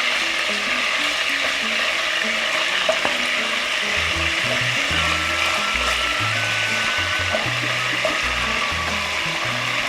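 Garlic shrimp frying in a pan for a Spanish recipe, a steady, close sizzle running throughout with soft scraping and stirring noises, no voices.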